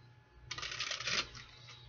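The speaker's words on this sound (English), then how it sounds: "One more shuffle here." A deck of cards is shuffled once at close range for a tarot-style reading, a quick riffling flutter lasting under a second that tapers off into quiet ticks.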